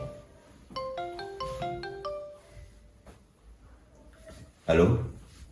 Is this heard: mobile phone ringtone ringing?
yes